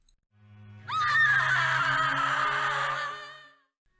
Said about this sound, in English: as we do, we hear Stephanie screaming